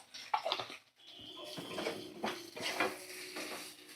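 Tomato and spice masala with turmeric and salt being sautéed and stirred in a pan for a chicken dish, giving a steady low sizzle broken by repeated scraping and stirring strokes, near and alone.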